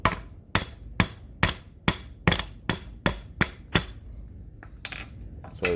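Mallet strikes driving a bolt into a VW TDI BHW 2.0 engine block, about ten sharp, evenly spaced metallic taps close up, then a few softer knocks and clatter.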